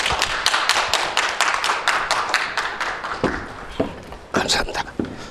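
An audience at a lecture applauds to welcome a speaker, a burst of dense clapping that thins into scattered, fading individual claps over a few seconds.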